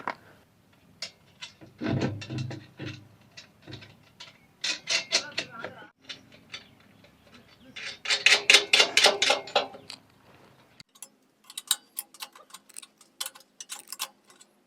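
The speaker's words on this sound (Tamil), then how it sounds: "அப்படியே வாசரை நட்டையும் போட்டு டைட் பண்ணிக்குவோம்." Washer and nut being tightened onto motor mounting bolts on a concrete mixer built from an old oil drum, with clicking metallic ratchet-like ticks in bursts, close and fairly loud, joined by scraping rubs.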